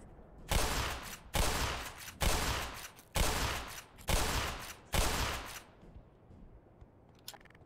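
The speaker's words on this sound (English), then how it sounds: "I'm pulling out the shotgun for this." Six loud, evenly spaced shotgun blasts from Black Mesa, each a sharp broadband crack with a short decaying tail, about one second apart, followed by a quieter stretch.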